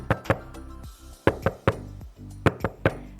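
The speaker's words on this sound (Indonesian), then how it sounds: "Ketika kita mengetuk pintu" Knocks on a door land in quick pairs and short clusters, about eight sharp raps in all, loud and close with brief silences between them and no voices.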